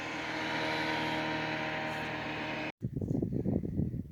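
A steady engine drone holds for several seconds, cuts out abruptly, then gives way to a rougher, fluttering rumble as a motorboat passes close by on the Wisconsin River.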